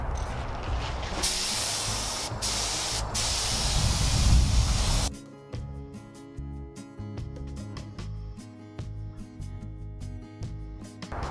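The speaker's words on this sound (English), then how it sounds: "I'm going to be using my air compressor with my polyurethane" An air compressor spray gun hisses loudly and continuously while misting polyurethane finish over a crackle milk-painted piece, then the spray cuts off, leaving a quieter mechanical hum with faint knocks.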